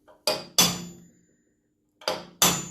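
Four sharp metallic hammer strikes on a center punch against metal, two quick taps, a pause, then two more, each ringing briefly.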